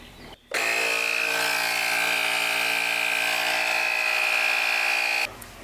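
A Gooloo A2 portable tire inflator runs in a steady high-pitched whirring buzz as it pumps up a tire, starting abruptly after a click and cutting off near the end, loud and close.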